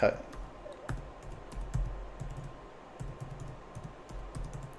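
Fingers type on a computer keyboard in quick irregular clusters of light clicks, close and moderately quiet, while someone talks over the keystrokes.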